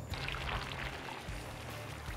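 Cornstarch mud pouring into a cement truck drum, a steady wet rushing pour with low mechanical rumble underneath, continuous and fairly close throughout.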